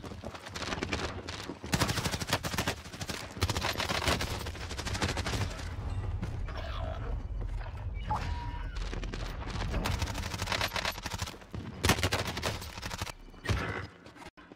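Dense, sustained bursts of video-game gunfire rattle almost continuously, with heavy low booms and brief lulls, loud and close throughout.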